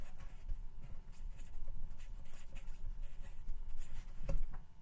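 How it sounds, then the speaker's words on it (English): Writing being erased from a board during a maths lesson: a soft, steady scrubbing and rubbing with short strokes, close and moderately quiet, ending with a light tap, no speech. "I'm just going to erase this then."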